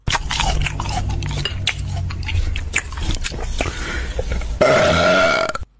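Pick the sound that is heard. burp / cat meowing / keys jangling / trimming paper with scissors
burp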